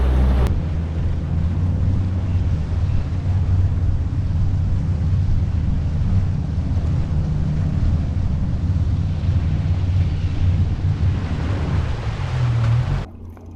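A small fishing boat cruises on an electric motor across a lake, a constant low hum of water rushing along the hull, heavily buffeted by wind on the microphone, continuous and near, with no talk.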